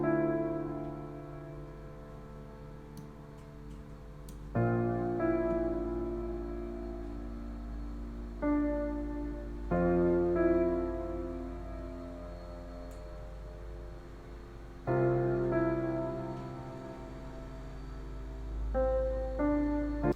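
Melody built in music software over changed bass root notes, sustained synth chords shifting every few seconds with a deep bass underneath, steady and fairly quiet with no voices.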